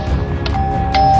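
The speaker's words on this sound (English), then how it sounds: "It's ringing the doorbell!" A short electronic doorbell chime in a Minecraft video game sounds twice, close and clear, over a low background hum.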